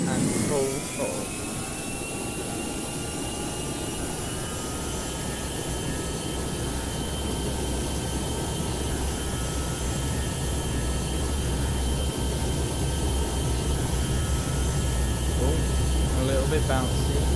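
An A321 jet engine in a flight simulator game spools at full throttle, a loud, steady roar with sustained whining tones that holds for the whole stretch, while a voice speaks over it.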